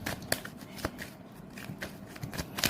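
Tarot cards shuffled by hand close up, a run of papery riffles and snaps with several sharp louder slaps at uneven intervals, no voices.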